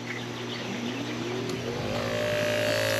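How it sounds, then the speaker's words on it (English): A DIY fishing kayak motor starts up, its electric whine sliding upward in pitch over a low steady hum, close and moderately loud. "you can see that the motor starts going"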